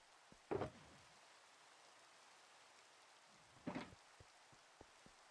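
Steady rain falling in The Citadel video game, a soft continuous hiss with no talk, broken by two brief louder bursts and a few faint taps near the end.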